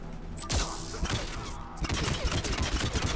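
Dense gunfire in the video game Mass Effect 3, rapid overlapping shots and thuds crowding the whole stretch at a steady loud level, with a sharp burst near the start.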